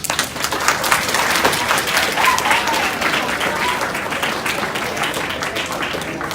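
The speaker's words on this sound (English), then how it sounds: "can we give him another round of applause?" Sustained audience applause, dense and fairly loud clapping from a crowd at a speaking event, even in intensity across the whole stretch with only a faint murmur of voices.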